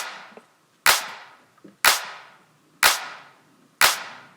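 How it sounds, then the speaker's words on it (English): A clipped clap sample plays four times in steady succession in Ableton. Each hit is sharp, bright and evenly spaced, with a short decay and near silence in between. "Let's see how much we are clipping the clap right now with this new setting."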